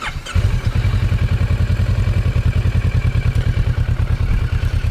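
A 2015 Kawasaki Versys 650 motorcycle engine cranks and catches, then settles into a steady, throbbing idle with a regular low pulse, close and fairly loud.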